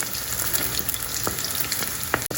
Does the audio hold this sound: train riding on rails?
no